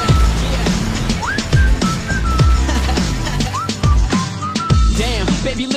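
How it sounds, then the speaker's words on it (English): A wolf whistle within a song, a rising then falling two-note whistle repeated several times over a steady beat with strong bass thumps. "But I didn't know what to say, so I just whistled at her."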